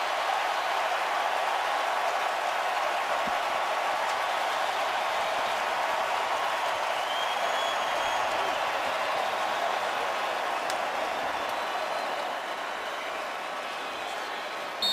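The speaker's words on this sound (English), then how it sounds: "Listen to this crowd." Stadium crowd at an Atlanta Falcons NFC divisional playoff win over the Seahawks roars in a steady, loud, unbroken wall of cheering that holds for the whole stretch and barely fades at the end.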